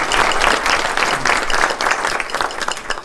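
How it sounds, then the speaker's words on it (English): Audience applause at a Small Business Week closing ceremony, a steady dense wash of many hands clapping together, loud and sustained throughout without pause. "if we could get a big round of applause for all those people"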